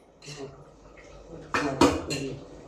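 Chicken biryani rice being mixed with ghee in a pot, with several clanking scrapes of a spoon against the metal pot amid quieter background kitchen sounds, including two louder knocks near the end.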